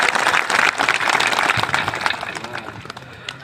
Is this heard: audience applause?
yes